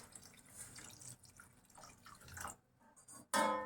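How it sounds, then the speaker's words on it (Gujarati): Half a glass of water goes into a pan of spinach and moong dal, starting as a soft, close trickle and splashing. After a brief silence it ends with a sudden loud burst. "મેં અહીંયા અડધો ગ્લાસ પાણી નાખ્યું છે"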